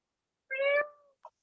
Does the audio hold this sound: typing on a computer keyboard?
no